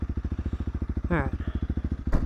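A Honda CRF300L dual-sport motorcycle engine idles or runs steadily at low revs with an even, pulsing thump, close and fairly loud. A short voice or squeak briefly cuts in over it.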